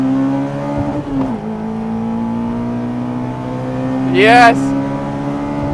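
Honda drag car at Santa Pod strip holding a steady engine drone, then launching with wheel spin near the end as pitch sweeps sharply upward; a person briefly speaks early on.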